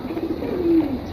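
A single brief, low coo from a domestic pigeon in a home loft, close and fairly clear over mild background hiss.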